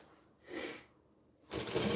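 Short bursts of a sewing machine stitching binding onto a fabric baby bag, one brief run followed by a louder one starting after a pause, close and fairly quiet.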